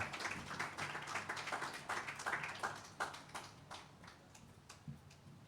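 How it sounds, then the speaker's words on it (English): An outdoor open-mic audience on King Street claps for a performer, a scattered round of hand claps that starts fairly full and thins out over several seconds, with no talking over it. "another round of applause for Ben Atkinson"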